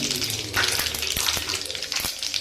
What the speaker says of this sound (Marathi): आता इथे मी तेल गरम करून घेतलेलं आहे, त्यामध्ये मी मोहरी टाकते, त्यानंतर जिरे टाकते